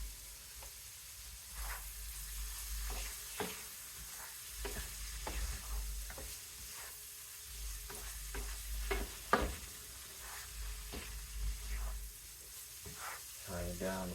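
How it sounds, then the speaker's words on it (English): Seasoned ground meat for tacos simmers softly in a pan, a faint continuous sizzle punctuated by scattered spoon taps and clicks as it is stirred. "Turn it down to simmer and let it simmer."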